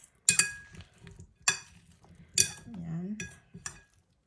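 Two forks tossing a healthy salad, giving a few sharp metallic clinks and scrapes against the bowl spaced through the moment, with someone talking briefly between them.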